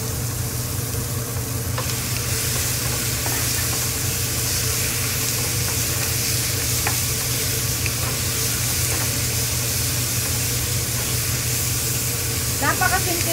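Minced pork frying in a pan, a steady broad sizzle with faint stirring scrapes running throughout at a fairly loud, close level, with a low steady hum beneath and a brief rattle near the end.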